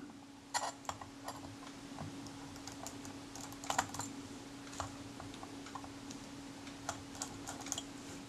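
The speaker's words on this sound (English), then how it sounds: "Let's have the three screws out of that." Tiny screws are worked out of the loose chrome trim plate on a Kodak Retinette IA camera, giving faint scattered metallic ticks and clicks over a low steady hum, close but quiet, with no talk.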